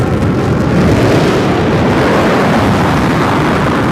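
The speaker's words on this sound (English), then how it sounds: "we're going to get the BE-3 engine to restart" A loud, steady rocket engine roar, broad and rumbling, continuous without a break and with no voices over it, as a New Shepard booster's BE-3 engine restarts for landing.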